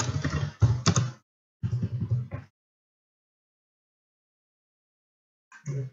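Keys clatter on a computer keyboard in quick bursts of typing, close and moderately loud, broken by a long pause before a brief final flurry.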